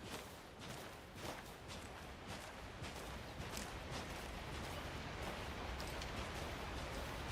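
Steady rain falling in the game Alan Wake 2, a soft, even wash of droplets with a few sharper patters, fairly quiet and continuous with no talking.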